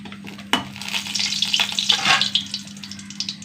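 Asafoetida pieces dropped into hot coconut oil set off a sudden loud sizzle that keeps crackling and spitting steadily, with a low steady hum underneath.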